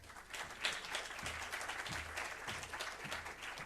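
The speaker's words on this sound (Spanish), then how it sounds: "Un aplauso." Faint, distant applause from a conference audience greets a speaker at an astronomy meeting in Pamplona. It is a continuous soft wash of clapping with no voices over it.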